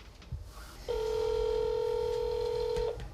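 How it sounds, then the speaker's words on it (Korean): On a telephone, a single clear electronic keypad tone holds steady for about two seconds over faint room noise, then stops, with soft handling sounds before and after. "어디론가 전화를 건다."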